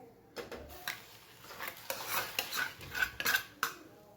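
Dal fry being stirred with a utensil after the tempering is added, giving a few close scraping, clinking strokes against the pot in an uneven rhythm, with no talk.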